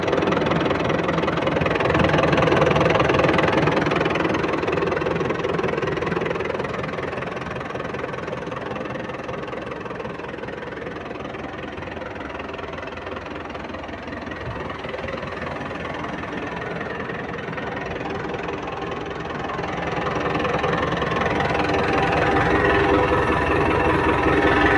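A tractor engine, offered for sale with its motor never opened, runs steadily at close range for the whole stretch, a continuous mid-to-low rumble that eases slightly in the middle and swells again near the end, with no talk over it.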